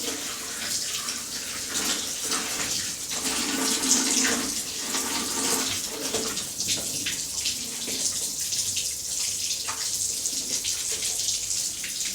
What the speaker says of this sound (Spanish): a la canilla con agua fría.